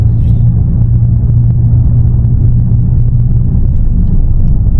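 A 2024 VW GTI Mk8 drives fast through a bend, heard from inside as a deep, steady engine and road rumble. The low drone holds constant and fairly loud the whole time, with no voices.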